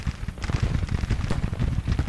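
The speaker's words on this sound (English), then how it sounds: "In the rain, guys." Rain in the Civil War strategy video game Grand Tactician: a dense, steady patter of drops with soft crackling texture and low rumble, continuous and fairly loud with no talk.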